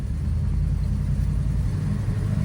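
A 1971 Dodge Super Bee's V8 rumbles low and steady as the car pulls away in gear with a 727 automatic on old dry-rotted tires, a close, continuous engine drone with no talking.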